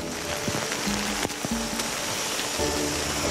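Heavy artificial rain from a film-set rain machine pounds down steadily in a dense, continuous hiss during a wintertime shoot in British Columbia, with a few thumps and faint knocks under the downpour.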